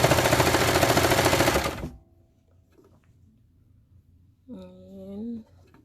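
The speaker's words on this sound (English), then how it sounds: "now I'm going to hold all the pieces together and run the machine" A Baby Lock Victory sewing machine runs in a dense, loud mechanical rattle for nearly two seconds, then stops abruptly; a voice speaks briefly afterward.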